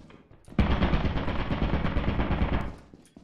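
A turret in Lethal Company fires a rapid, continuous automatic burst lasting about two seconds, loud and close, then cuts off sharply.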